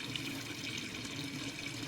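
Water flows steadily from the intake of an aquaponics fish pond, a faint continuous rushing and trickling wash with no talking over it.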